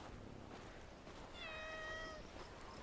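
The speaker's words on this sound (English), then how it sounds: "Pet the kitty." A cat meows once in the video game Bellwright, a clear drawn-out cry over a steady outdoor ambient hiss.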